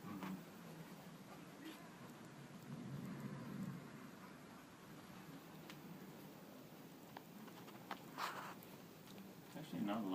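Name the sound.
heavy rain during a thunderstorm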